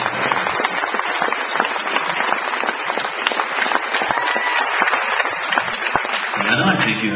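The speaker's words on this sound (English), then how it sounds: "Let's give them one more round of applause" A crowd applauds continuously, dense clapping filling the whole stretch at an even, lively intensity.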